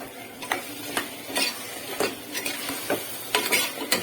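Mutton bones are stirred in a hot pan, a constant sizzle broken by regular scraping clicks of a spoon against metal, close and clear with no talking.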